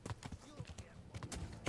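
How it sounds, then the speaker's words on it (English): Horse hooves clip-clop in quick irregular beats in the medieval game Kingdom Come: Deliverance, brief and fairly quiet, mixed with other faint game sounds. "Run, horse."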